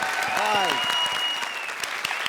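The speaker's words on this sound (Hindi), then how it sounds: "एक बार फिर जोरदार तालियां" Loud, dense applause from a comedy show studio audience fills the whole clip, with a brief rising electronic tone sweep layered over it near the start.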